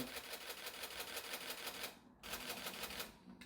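A Canon 6D Mark II camera fires its shutter in a rapid burst, a fast, even train of crisp mechanical clicks close to the microphone, broken by a brief pause before it resumes.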